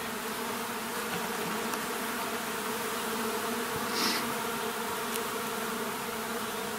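A honey bee colony, freshly moved after an overnight ride in a truck bed, hums in a dense, steady drone that fills the whole stretch, with a few individual bees flying close by.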